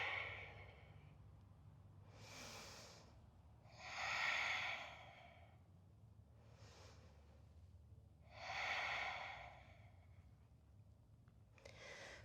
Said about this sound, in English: Breathing here.